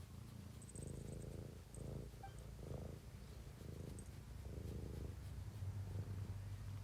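A cat in a video game purrs softly and steadily in rhythmic pulses, close and quiet, with a faint bright chime now and then.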